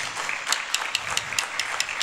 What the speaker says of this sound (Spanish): así que un fuerte aplauso para él.